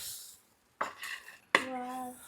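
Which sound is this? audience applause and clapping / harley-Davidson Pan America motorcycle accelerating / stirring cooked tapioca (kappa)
stirring cooked tapioca (kappa)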